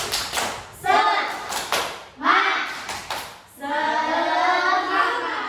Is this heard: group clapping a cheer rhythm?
yes